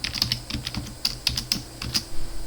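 Quick, irregular keystrokes clatter on a computer keyboard, close and crisp, with brief pauses between bursts of taps and no voices.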